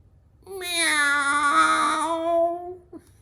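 A human voice imitates a cat with one drawn-out, rising-then-falling meow, close and clear, followed by a brief breathy sound in a quiet room.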